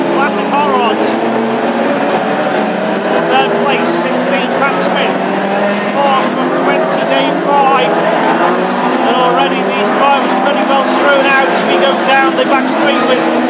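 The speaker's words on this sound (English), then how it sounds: "leads this first national race for the Classic Hot Rods" Classic hot rod race cars roar around a national championship oval at Hednesford, engine drones rising and falling as cars pass, under continuous commentary over a loudspeaker.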